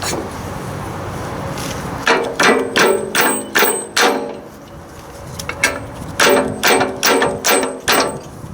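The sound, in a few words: hammering on backhoe pins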